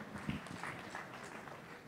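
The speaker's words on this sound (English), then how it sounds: "that was a weak round of applause for yourselves" A thin, faint round of applause from a seated audience at a business talk, a brief scattered patter of clapping lasting under two seconds.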